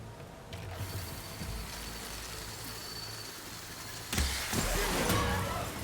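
A robotic machine creature in Horizon Forbidden West gives off continuous mechanical whirring and ratcheting gear clatter, which surges louder and harsher partway through.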